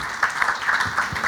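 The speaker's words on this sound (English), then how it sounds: "Can we have a huge round of applause for the entire panelists?" Brisk applause from an audience for the panelists at a panel discussion on underwriting automation and AI, a dense patter of clapping heard alone and fairly close.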